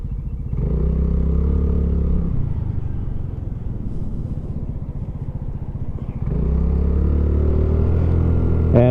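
Honda Navi small motorcycle riding along with a steady engine drone throughout, its note rising in pitch as it revs at the start and again near the end, loud and close with no talk.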